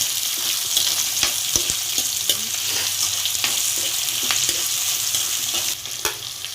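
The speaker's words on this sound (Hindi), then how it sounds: "अब प्याज डाल रही हूँ तेल के अंदर" Loud, continuous sizzling of onions frying in oil, with occasional scraping stirs and clinks against the pan.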